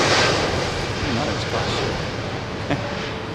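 A Boeing Dreamliner airliner at London Heathrow roars loudly and steadily as a broad, continuous rush of engine noise that fills the clip, with no gaps.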